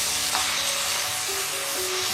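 Methi bhaji with turmeric cooking in a pan, giving a dense, even sizzle with a faint soft stir near the start; no voices.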